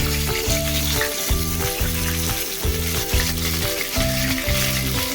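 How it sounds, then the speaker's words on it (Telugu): Sliced onions fry in hot oil with cumin and fenugreek seeds, giving a constant close sizzle with a rhythmic pulsing tone running underneath it. "ఇప్పుడు ఈ ఆయిల్లో నేను ఉల్లిపాయలు వేసుకున్నా"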